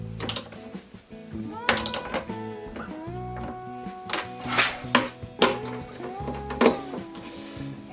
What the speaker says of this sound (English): So I'll wrench down the positive leads first, and make sure you use an insulated ratchet just in case